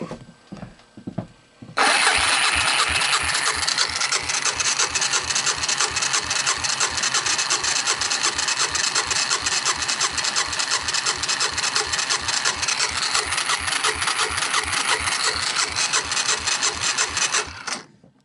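A Honda TRX250 ATV engine salvaged from a wrecked quad, dry with no oil, turns over on its starter for a compression check: a brief scrape, then a long, even, rapid mechanical churning with rattly starter gears that stops abruptly.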